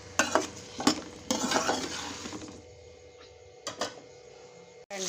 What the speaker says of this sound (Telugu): ఇప్పుడు ఈ టమాటా, ఆనియన్స్ వేయించాలి.